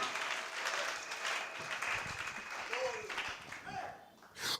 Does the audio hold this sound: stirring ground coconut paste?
no